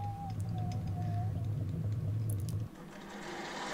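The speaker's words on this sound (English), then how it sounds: "I'm using an end mill to round over the end of the workpiece." An end mill on a milling machine rounding over the end of a metal workpiece, a steady close hum with a faint intermittent whine that drops away abruptly near the end, leaving quieter shop noise.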